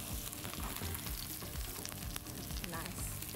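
Aubergine sizzles and crackles in hot oil in a wok, a dense, steady frying hiss heard close and fairly quiet with no talk.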